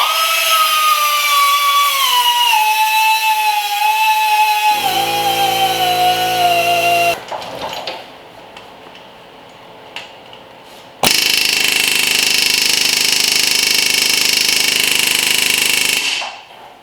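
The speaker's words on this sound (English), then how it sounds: "with an air hammer." A pneumatic air hammer punches out a catalytic converter whose sides were split, hammering loudly and continuously in two long bursts separated by a quieter pause with softer shop noise.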